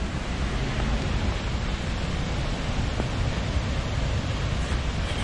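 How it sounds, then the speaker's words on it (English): Running water at Havasu Falls, a broad steady roar of the waterfall that fills the air continuously, loud and unbroken with no voices. "just to hear the running water after hiking for so long is so refreshing"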